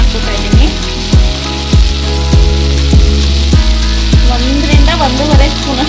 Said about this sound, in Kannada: ಇದನ್ನು ಚೆನ್ನಾಗಿ ರೋಸ್ಟ್ ಮಾಡೋಣ, ಅದು ಹಸಿ ಸ್ಮೆಲ್ ಹೋಗೋವರೆಗೂ